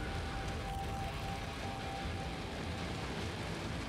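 Steady hiss of poison rain falling in the video game Valheim, an even, continuous wash of droplet noise with no voices over it.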